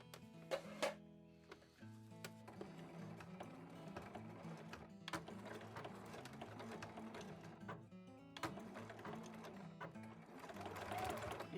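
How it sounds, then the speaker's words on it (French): A sewing machine stitches fabric for a small zippered pouch, steady mechanical whirring with rhythmic needle clatter in several bursts and brief pauses, close, with a soft voice now and then. "Et maintenant, on va aller coudre."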